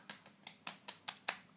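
Hands patting the face during a skincare routine make seven soft, evenly spaced slaps, close and quiet, at a quick steady rhythm with no talking.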